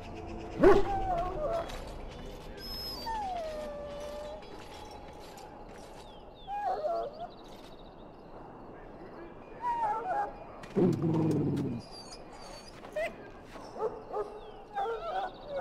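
A sick dog penned up in Dragon Age: Origins whimpers and gives short yips and a few barks at a moderate distance, with soft glides between them, over a low ambient background and occasional voices.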